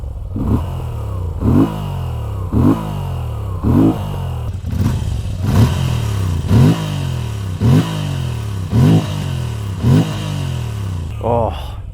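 A Moto Guzzi V7 Sport motorcycle engine, 2025 model, revs repeatedly against its electronic limiter near 7,000 RPM, giving about a dozen rhythmic rising bursts that cut off sharply, loud and close throughout.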